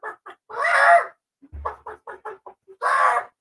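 Chickens cluck close by in a rural Philippine setting, with short staccato clucks between two longer drawn-out squawking calls and silence in the gaps.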